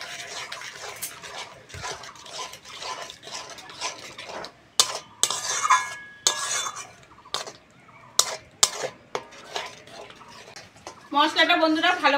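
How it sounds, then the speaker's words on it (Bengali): Ground spices with a little sour yogurt and salt stirred and fried in a pan, a spoon scraping and clinking against the metal in repeated strokes, with voices talking over it. "এবার মশলার ভালো করে কষবো।"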